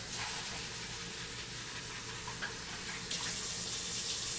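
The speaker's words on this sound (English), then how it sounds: "Let me wash up this rice." Rice rinsed under a running kitchen tap, a steady close hiss of flowing water that gets brighter and louder near the end as the stream strikes the grains.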